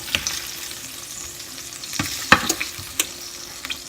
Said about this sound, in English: So carefully scoop the hot meatballs into the broth